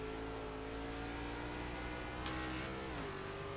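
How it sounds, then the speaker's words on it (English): Sportsman Series sim race car at Lucas Oil holds a high, buzzing engine note, then the pitch drops sharply near the end as a gear shifts going into a corner, heard alone at moderate level. "It sounds like he's shifting out there as he dives down."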